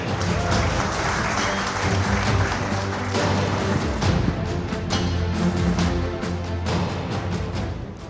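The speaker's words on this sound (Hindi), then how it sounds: "प्रियंका चतुर्वेदी के लिए डबल तालियां क्योंकि आज इनका जन्मदिन भी है" Sustained audience applause at a live political debate event in Madhya Pradesh, a broad steady wash of clapping from a large crowd that continues throughout.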